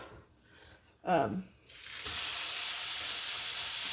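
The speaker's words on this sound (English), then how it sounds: "I'm frying bacon" Bacon hits a hot pan and breaks into a loud, steady sizzle that fills the second half, after a short voice and a clatter near the start.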